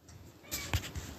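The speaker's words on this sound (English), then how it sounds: "Hi, cat." A pet cat gives a short meow, fairly close and moderately loud, against quiet room tone during a casual Minecraft gaming session at home.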